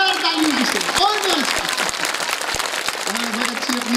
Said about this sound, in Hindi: जोरदार तालियों की सेवा